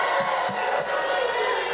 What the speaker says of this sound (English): give me your best clap, your best shout